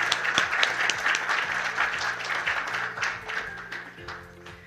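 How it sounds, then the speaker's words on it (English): Applause from the audience at a regional committee meeting, many hands clapping at moderate volume under a low, repeating musical backing, the clapping easing slightly toward the end. "A big round of applause to you and to your team."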